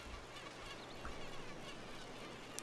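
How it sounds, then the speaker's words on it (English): Mosquitoes buzz continuously in The Sims 3 Island Paradise, a thin steady whine that stays faint and unbroken for a couple of seconds with no talk. "let's see if we can have her get bitten by mosquitoes"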